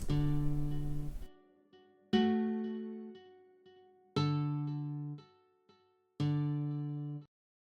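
Four sustained synth chords from the Motif 2 generative plugin ring out one after another, each struck cleanly and decaying over about a second before a short gap, with no voices.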